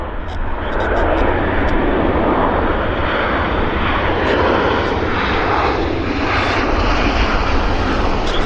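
A WestJet Boeing 737 Max airliner lands at Vancouver Airport, its engines a steady, loud, broadband roar that fills the whole span, with faint talk underneath.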